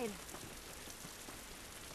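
Steady rain hiss in The Last of Us Remastered game, an even, moderately quiet patter that runs on alone without letting up.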